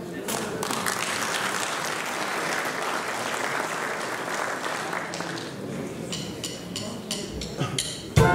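Steady applause from an audience at a brass music festival fills the space, sustained clapping lasting several seconds before tapering off.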